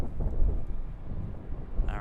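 Wind buffets a microphone at an airport plane-spotting spot, a steady low rumbling roar that persists throughout with gusty swells, loud and close, with no voices on top.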